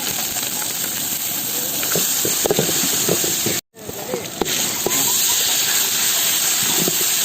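Onion, green chili, mustard seeds and fennel seeds sautéing in a pan for a roadside vegetarian meal, giving off a constant loud hiss and sizzle with scattered pops and a brief cut-out partway through, while a person talks over it.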